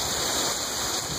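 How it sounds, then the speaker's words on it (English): Heavy rain and hail pour down in a steady, dense, loud wash of noise with no pauses. "Stick with the rain and the hail."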